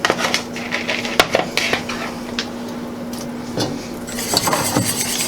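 Macaroni and cheese being stirred in a pot, a spoon scraping and clinking against the metal with repeated irregular knocks and a continuous wet churning, close and loud with no talking.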